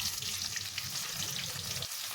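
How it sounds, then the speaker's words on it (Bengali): Cardamom, cloves, bay leaves and cumin temper in hot oil, giving a close, continuous crackling sizzle with a soft low rumble that cuts off abruptly near the end. "এলাচ দুটো, দুটো লবঙ্গ, দুটো তেজপাতা আর জিরে ফোড়ন দিয়ে দিয়েছি"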